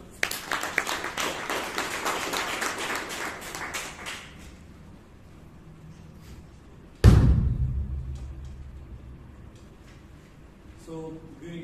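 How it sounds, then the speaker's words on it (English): A Toastmasters club audience in Bangalore gives several seconds of steady applause that dies away. After a quiet pause comes a sharp thump, and a voice starts speaking near the end. "Please give him a round of applause."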